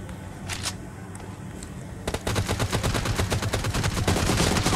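Rapid automatic gunfire in a team deathmatch video game, a couple of isolated shots first, then a sustained fast-rhythm burst, loud and close.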